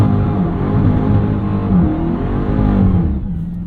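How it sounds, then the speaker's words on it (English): A 2023 Dodge Charger SRT Hellcat with a 717 hp engine roars loudly in first gear during a burnout, a sustained close revving blare with rising and falling pitch that eases off near the end. "No, it just does a huge burnout."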